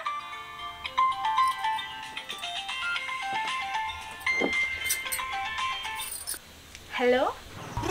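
A mobile phone rings with an incoming call, its repeating melodic ringtone running through most of the stretch, with a short voice at the end.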